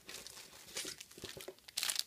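Cellophane gift bags crinkle and rustle close by in quick, irregular bursts that grow louder and brighter toward the end.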